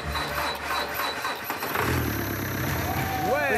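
Dacia Duster wreck's engine cranking and catching, a rough churning start that rises into a loud running engine, with voices heard during the cranking.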